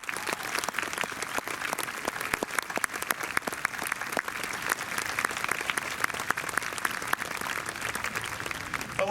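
Audience applause fills an outdoor bandshell concert evening, a dense, steady stretch of clapping from a large crowd that carries on without a break for the whole span, loud and close.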